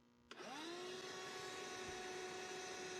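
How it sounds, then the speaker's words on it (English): A Ryobi handheld vacuum sucking up stink bugs, switching on with a sharp start and settling into a steady, close, whining motor drone that runs unbroken to the end, with no one talking. "And because of a rubber flap that's built to the inside of the vacuum, nothing really falls out."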